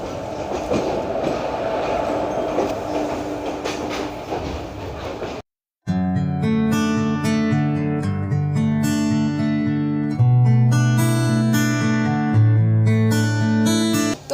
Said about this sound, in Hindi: हमारी ट्रेन जो है रोज़ा जंक्शन से चल चुकी है